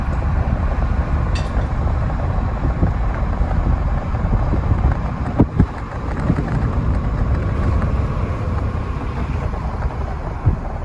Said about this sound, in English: Man, I am driving really fast right here.